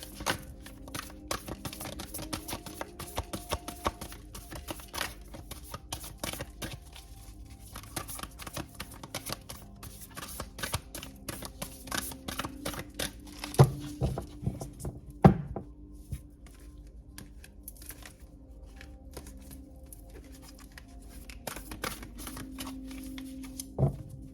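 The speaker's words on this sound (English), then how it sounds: "Having a hard time shuffling" Playing cards are shuffled repeatedly, a long run of quick riffling clicks and soft taps with brief pauses, close by and fairly quiet.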